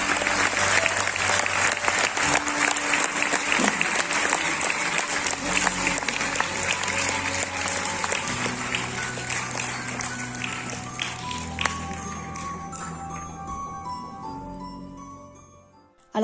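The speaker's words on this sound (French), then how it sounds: "vous pouvez de nouveau l'applaudir" A festival audience at Deauville applauds director Barbet Schroeder in a sustained, loud burst of clapping that slowly thins and fades toward the end, with faint tonal music or ringing underneath.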